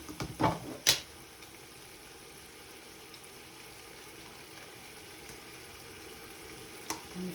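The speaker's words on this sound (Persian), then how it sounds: "روغن میندازم" Oil frying in a pan while cooking rice with meat, a faint steady sizzle after a few clattering knocks at the start, with one more light clink toward the end.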